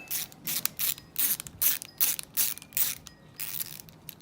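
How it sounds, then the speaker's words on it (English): Screws are undone on the shocks of a Baja buggy, a close series of quick, rhythmic ratcheting clicks in short bursts with no talk. "So just undo these screws out of here."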